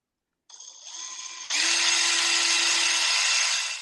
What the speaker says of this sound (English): So we're gonna drill into this piece.